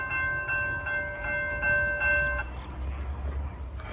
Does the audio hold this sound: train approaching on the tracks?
yes